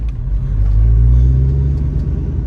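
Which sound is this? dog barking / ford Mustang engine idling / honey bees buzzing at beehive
ford Mustang engine idling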